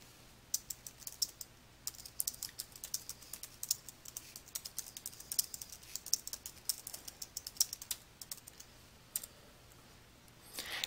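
Rapid, irregular typing on a computer keyboard while editing text in Adobe Acrobat XI, with close, crisp key clicks running steadily throughout and no talking.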